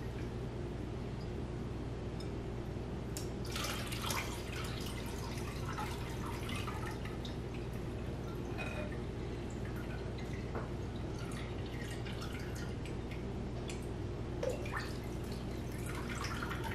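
Strawberry scrap vinegar drips through a cheesecloth-lined strainer, making a steady stream of small, close drips and trickles over a constant low background hum.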